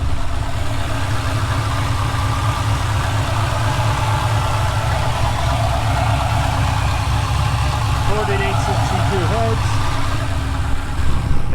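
An LS-swapped BMW E36 with a 5.3 liter V8, stage 2 cam and bullet race mufflers idles after a cold start, a loud, steady, lumpy low rumble that fills the whole stretch while a voice briefly speaks near the end.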